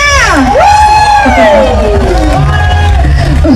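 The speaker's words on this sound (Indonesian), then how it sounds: "Tepuk tangannya tentunya." A loud outdoor crowd at a village cultural festival in Wanurejo, Borobudur, Magelang, cheers and whoops for the Dusun Bejen group, with shrill rising and falling shouts over a continuous roar of voices.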